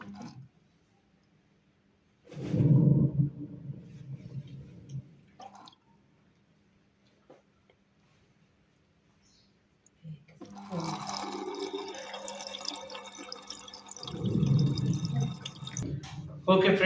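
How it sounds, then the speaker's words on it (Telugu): An LG 5.5 kg front-load washing machine draws in water, with bursts of gushing and trickling flow separated by quieter pauses, heard close up alongside a person talking. "చూడండి ఫ్రెండ్స్, ఇక్కడ మీకు వాటర్ తీసుకుంటుంది"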